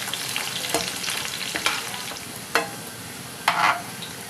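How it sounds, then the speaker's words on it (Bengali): Garlic cloves and chillies frying together in hot oil, a steady sizzle with occasional sharper crackles and stirring clatters, close and moderately loud with no voices. "সব একসঙ্গে ভালো করে লাল লাল করে ভেজে নেব।"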